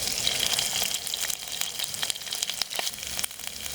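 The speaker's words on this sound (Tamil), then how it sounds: "எண்ணெய் நல்லா சூடாயிட்டு தாளிக்கிறதுக்கு சோம்பு, பட்டை, பிரிஞ்சி இலை எல்லாம் சேர்த்துக்கலாம்." Fennel seeds, cinnamon and bay leaf sizzle steadily in hot oil for a cauliflower kootu, a continuous bright hiss with scattered sharp pops and crackles, close and fairly loud.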